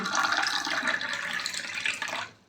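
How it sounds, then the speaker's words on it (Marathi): Cold water poured into guava pulp for juice, a close, steady gushing pour lasting a couple of seconds before tapering off, with no voices. "आता मी याच्यामध्ये पाणी ओतत आहे थंड पाणी घेतलेलं आहे"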